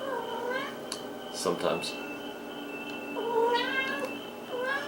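A cat meows several times nearby in drawn-out, wavering cries, some clear and loud, mixed with a person talking at the same time.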